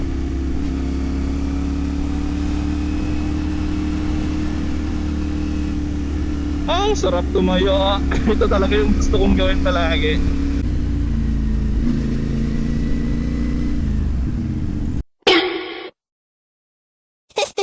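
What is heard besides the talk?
CFMOTO 450 MT motorcycle engine while riding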